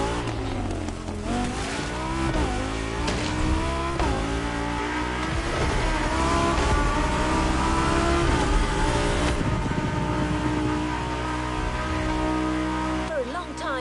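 A car drifting in the Motorfest racing game, its engine revving and rising through gears, with tyre squeal and skidding, loud and continuous, while a narrator talks over it.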